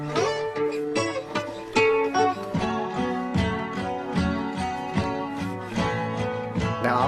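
The opening of a song played solo, with a steady stream of ringing plucked notes and chords, close and clear, with no voice.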